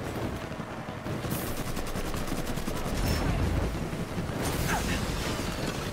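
Sustained gunfire in the Mafia III video game, a dense, continuous crackle of rapid shots and bursts at moderate distance, with a few heavier impacts rising above the racket partway through.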